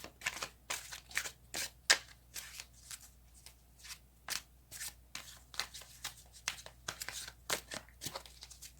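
Tarot cards being shuffled and handled, a steady run of quick papery riffles, slaps and flicks, fairly close and quiet, with no talking.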